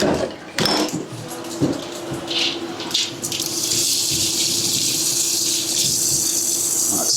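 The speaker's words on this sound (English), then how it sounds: "But both jars are in the crock pot, a little bit of water." Water running and splashing into a crock pot holding two jars, starting with a few clinks and splashes, then settling into a steady close gush from a tap.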